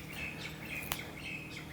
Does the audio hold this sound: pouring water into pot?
no